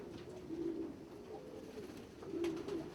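Soft, low pigeon coos repeat a few times, fairly faint, over a quiet background hum.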